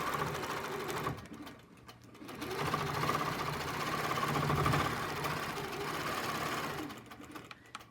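A sewing machine stitches a quilt border with piano-key blocks, a steady close motorized whirr running almost throughout with a brief slowdown near the start and a tapering stop at the end.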